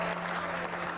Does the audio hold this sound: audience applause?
yes